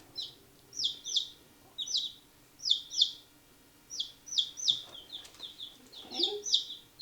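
A Barred Rock chick gives repeated high, thin peeping chirps, clear and close, in short paired bursts at a steady pace, with faint background noise.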